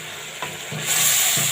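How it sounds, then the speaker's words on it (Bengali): Hilsa fish pieces and Malabar spinach stalks being stirred and fried in a pan, a steady close sizzle with a few scraping stir strokes, the frying hiss growing louder toward the end. "এবারে ভালো করে নেড়ে চেড়ে কষাই নিব"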